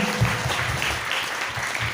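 A seminar audience applauds, a steady, moderately loud patter of many hands clapping for two seconds with faint voices underneath.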